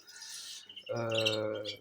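Pet birds chirping indoors, a quick series of bright, clear tweets and a short warbling call close to the microphone, with no talking.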